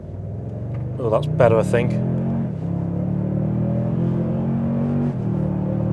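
A Toyota pickup truck launches hard from a brake-boosted start, its engine note climbing steadily through the gears in a loud, continuous rising drone, with someone talking briefly over it near the start.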